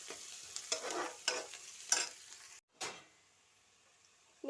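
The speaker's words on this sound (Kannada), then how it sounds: "ಈಗ ಈರುಳ್ಳಿ ಚೆನ್ನಾಗಿ ಬಾಡಲಿ" Onions frying in a pan for an egg sukka, stirred with a few scraping strokes over a soft, steady sizzle, then a short pause and one more stir before quieting down.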